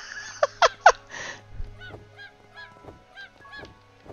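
A farm bird in the Craftopia video game gives three sharp honking squawks close up, followed by a string of softer, evenly spaced game sounds.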